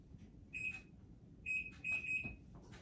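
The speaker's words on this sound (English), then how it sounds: "Let me just set the timer" Kitchen timer being set for a muffin bake, giving short high electronic beeps in small separate bursts, four in under three seconds, fairly quiet over a low room hum.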